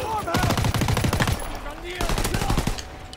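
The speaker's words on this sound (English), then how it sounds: "And this machine gun pistol?" Thompson submachine gun in Call of Duty WWII fires two rapid automatic bursts, the first longer and the second shorter, loud and close.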